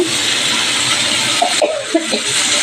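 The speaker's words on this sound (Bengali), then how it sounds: "এই যে চিংড়ি মাছটা একটু ভেজে নিচ্ছি হালকা" Prawns fry lightly in oil in a pan, giving a loud, continuous close hiss with a few small pops and clatters near the end.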